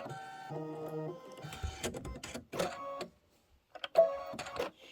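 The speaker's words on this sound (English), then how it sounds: "we're going to do the tack down stitch that holds the fringe" An embroidery machine sews a tack-down stitch holding fringe on a quilted pillow block, its needle whirring in bursts of mechanical chatter with brief pauses between runs.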